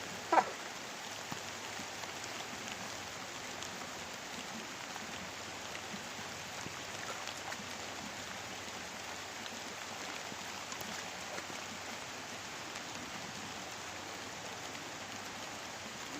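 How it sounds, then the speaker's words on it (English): Steady rain falls in a constant soft hiss, moderate and even throughout, with no voices. "Wow, that's pretty good rain."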